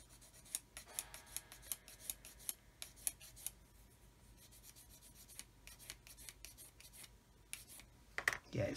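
A worn emery stick rasping against the seam of a 1/72 Das Werk U-9 U-boat plastic model kit, a quick series of close, sharp scraping strokes followed by quieter intermittent rubbing.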